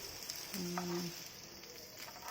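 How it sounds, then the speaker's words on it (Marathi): Prawns frying in a pan over a low gas flame give a steady, quiet sizzle and crackle throughout, with a brief tonal hum in the middle. "फ्राय केलेली आहे ही आरामशीर मंद गॅसवर ठेवून द्यायची"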